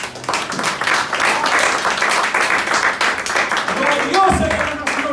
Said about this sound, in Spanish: Por eso hago, esto para dar un aplauso fuerte a Cristo.